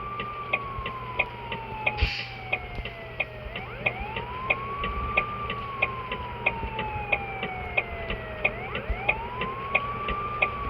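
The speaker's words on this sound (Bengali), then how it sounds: "পুলিশের গাড়ির পিছনে শুধু সাইরেন বাজাচ্ছে" Police car siren wailing in a continuous rising-and-falling sweep through stopped traffic at a red signal, loud and steady, with regular ticking pulses and road rumble beneath.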